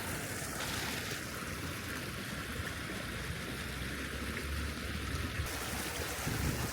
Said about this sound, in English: And this is the river that runs past the hanging balconies.